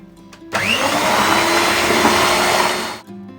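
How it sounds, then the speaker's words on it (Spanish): An electric mixer beating cheesecake cream with sugar and a pinch of salt, a loud whirring motor that starts abruptly, runs steadily and cuts off near the end. "seguimos batiendo"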